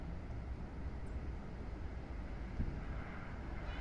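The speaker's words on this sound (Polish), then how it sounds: "No i właśnie, wieje sobie wiatr." Low, continuous wind rumble buffeting the microphone in Lidzbark Warmiński, Poland, steady with slight gusts and no speech.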